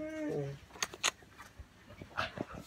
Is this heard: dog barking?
yes